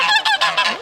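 Domestic geese honking up close, four or five loud nasal calls in a quick rhythmic burst.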